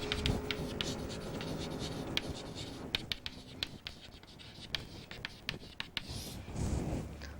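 A pen scratches steadily as a JK master-slave flip-flop circuit diagram is drawn, with close, quick, uneven strokes and taps and no talking.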